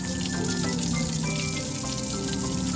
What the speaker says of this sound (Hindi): लिफ्टी पानी के मजे ले रहा है।